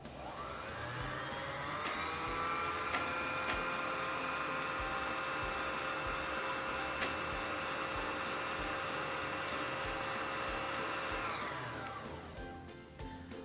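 A Singer Fashion Mate 3342 sewing machine winds a bobbin, its motor whirring in a steady high hum for about ten seconds before spinning down, with a few light clicks along the way.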